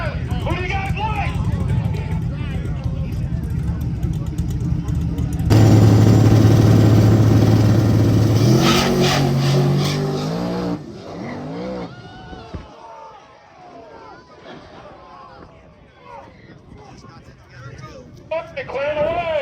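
A twin turbo Chevrolet Caprice at a no-prep drag race roars loudly at launch with a sustained engine drone that suddenly cuts off, then crowd noise and an excited announcer talking follow.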